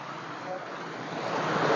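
TP Kota waterfall near Sathyavedu, Chennai, running with less water than usual, gives a steady broad rush of falling water that swells slightly louder toward the end, with no other sounds over it.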